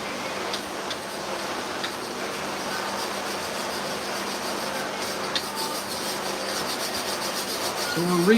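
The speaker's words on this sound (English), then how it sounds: "So we're recharging the plate with abrasive." Steady abrasive rubbing and rasping as a diamond sharpening plate is recharged with 180-grit abrasive for clipper blades, continuous and fairly close, with a faint clatter near the end.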